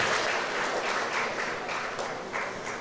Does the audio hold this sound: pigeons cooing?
no